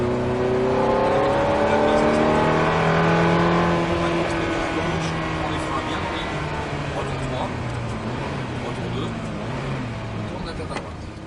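A Ferrari F430 race car accelerates hard on a track, its engine note loud and rising through the gears, then easing slightly as it settles into a steady high-revving drone, with a voice talking over the engine.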